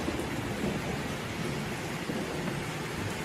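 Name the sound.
thunder and rain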